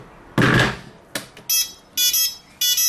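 A Quanum Nova quadcopter's radio transmitter powering up gives a quick series of bright electronic beeps, three short bursts in a row after a couple of clicks and a louder thump.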